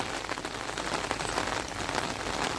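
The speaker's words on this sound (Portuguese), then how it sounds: "É uma garoa bem boa" A light drizzle falls in the Brazilian sertão under an overcast sky, a soft, even patter of fine drops, steady and fairly quiet, with no voices.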